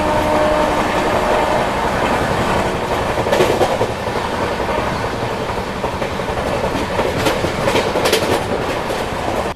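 A Sampark Kranti express train runs on rails near Lalitpur Junction, heard from on board as a loud, continuous rumble with rhythmic clickety-clack bursts over rail joints and occasional sharper rattles.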